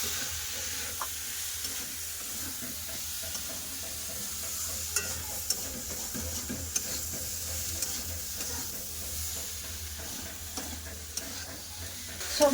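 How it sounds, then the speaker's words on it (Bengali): Vegetables with turmeric, coriander, chilli and cumin powder stir-frying in a pan, a steady close sizzle and hiss with scattered scrapes and clicks of stirring throughout, no voices. "সব সবজি মশলার সাথে কষে নেব"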